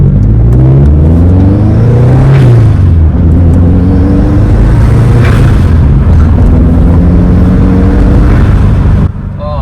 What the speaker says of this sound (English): Let's hear that blow-off valve action.